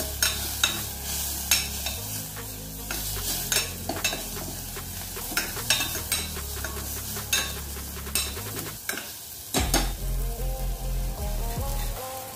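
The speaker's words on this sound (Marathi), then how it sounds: "यात आता 1 चमचा तिखट, अर्धा चमचा हळद, 1 चमचा गरम मसाला घालून याला व्यवस्थित परतून घेणार आहोत।" Sponge gourd sautéed with chili powder, turmeric and garam masala, with sharp spoon taps and scrapes against the pan in an uneven rhythm over a soft sizzle, close and without talk.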